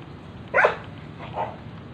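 A dog outdoors along the Iloilo Esplanade gives one sharp bark followed by a softer, shorter second bark, both close and clear over light background noise.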